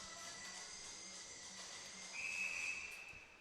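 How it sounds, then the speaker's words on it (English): A referee's whistle at an ACHA Division 2 college ice hockey game between ASU and the NAU Icejacks: a single sharp, steady shrill blast rising out of faint arena hiss near the end, fairly distant. "Whistle blown again."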